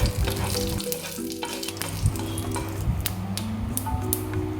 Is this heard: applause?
no